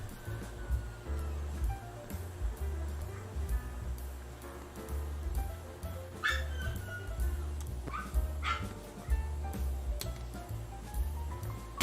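A dog barks and whimpers repeatedly at a distance, faint yips and whines over a steady background hum.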